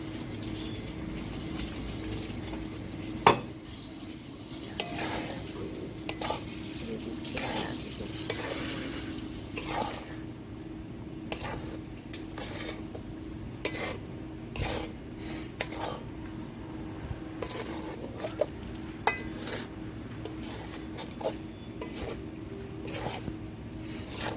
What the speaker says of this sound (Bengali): লঙ্কা জিরে তেজপাতার গুঁড়ো ভালো করে মিক্স করে নেবো